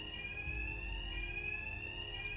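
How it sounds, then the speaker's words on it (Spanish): An alarm rings at the Gotham bank in Batman Arkham Knight, a continuous electronic tone held steady and quiet throughout, with a low rumble beneath it and no voices. "El ruido de la alarma cubrirá mis ataques."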